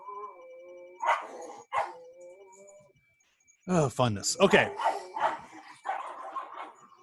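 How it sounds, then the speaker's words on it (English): Dogs bark in short bursts in the background of a quiet room, interleaved with a person speaking softly. "Sorry, my dogs are killing me right now."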